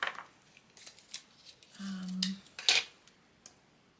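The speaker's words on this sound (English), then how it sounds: "I'm going to cut a second one to layer" Scissors cutting paper for Valentine's Day cards, a few crisp close snips and slicing strokes, fairly quiet, with no talk over them.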